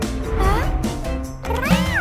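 A cat meows in a few rising, wavering calls, close and fairly loud, with a short gap partway through.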